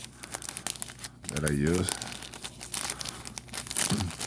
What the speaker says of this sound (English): you see my little plastic bags, these little plastic sleeves